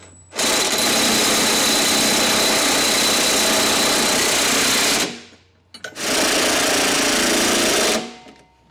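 An impact tool rattles continuously as hitch bolts are tightened with a 15/16 socket, one long loud burst, a short pause, then a second shorter burst.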